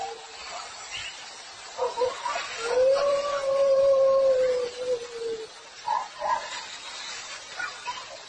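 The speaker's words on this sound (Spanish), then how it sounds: "Los perros aparecen e intentan ahuyentarle." Dogs on a property at night, caught on a security camera: scattered barks and yips build into one long, wavering howl, then more short barks follow, moderately close with some background noise.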